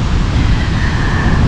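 Rough ocean surf on Tayrona beach in Colombia, a loud, continuous roar of breaking waves mixed with heavy wind buffeting the microphone.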